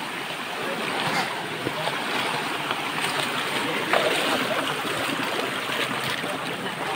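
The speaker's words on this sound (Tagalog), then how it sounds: "Yan tayo sa unang sapa." Stream water flows steadily at the first of a chain of waterfalls in a bamboo-lined forest, a constant broadband rush heard close, with occasional faint voices in the background.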